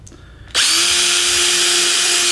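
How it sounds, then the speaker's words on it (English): A power drill bores an entry hole into a quarter-inch wood panel, starting abruptly after a quiet moment and then running as a loud, steady high whine that holds to the end. "I'm just going to put an entry hole right next to each one of these circles"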